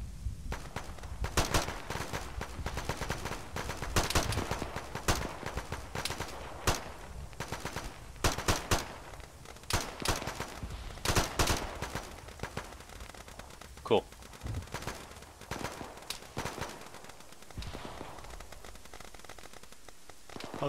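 Gunfire in a ShackTac military game crackles almost constantly, with repeated sharp shots and short automatic bursts at mid distance over a noisy background, and voices talking now and then.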